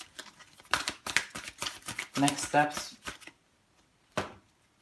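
Tarot cards are shuffled by hand in quick crisp riffles and slides, under and between a voice speaking, with a final short shuffle after a pause.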